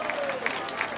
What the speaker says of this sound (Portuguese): Uma salva de palmas para os homens.